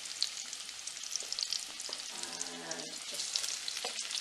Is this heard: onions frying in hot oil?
yes